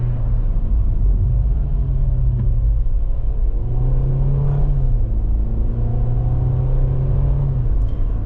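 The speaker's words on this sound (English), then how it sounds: "put this in sport mode and use the gear shift to shift through the simulated gears" A 2025 Hyundai Venue with an IVT transmission in sport mode drops through simulated gears, its engine rumbling loudly with stepped rises and falls in pitch as each downshift lands.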